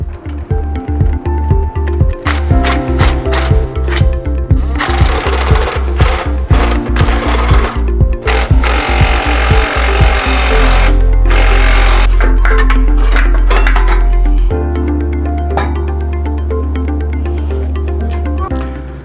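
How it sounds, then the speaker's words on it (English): Air impact tool loosening the hangers and clamp on a Jeep Wrangler's stock muffler, rattling in rapid repeated bursts, then a longer sustained loud whirr and further short rattling runs, close and harsh. "So I'm gonna get started and get these loose and you'll see how the stock muffler comes out."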